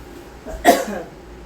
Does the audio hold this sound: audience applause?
no